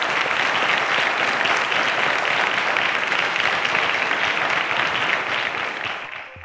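Studio audience applause on a quiz show, loud sustained clapping from a full crowd that holds steady for several seconds and then fades near the end.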